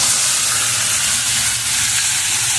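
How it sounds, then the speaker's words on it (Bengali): Spice-coated chicken meat (a cock chicken) poured into a hot pan, giving a loud, steady, bright sizzle and hiss close by with no talk. "মশলা মাখা মাংসটাকে আমি ঢেলে দিলাম।"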